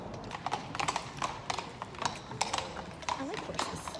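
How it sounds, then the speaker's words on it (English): Horses' hooves clip-clop on a city street in a steady, fairly close rhythm of sharp knocks, with voices and street bustle in the background. "Horses."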